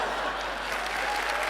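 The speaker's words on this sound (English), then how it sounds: "That gets applause?" A studio audience at a magic show bursts into sustained applause, a dense, even roar of many hands clapping with a faint crowd murmur underneath.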